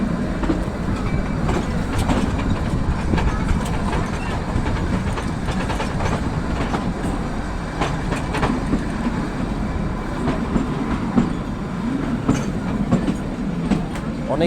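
The Shimla to Kalka toy train running on its narrow-gauge rails, a loud steady rumble with rhythmic wheel clatter throughout, close by and continuous.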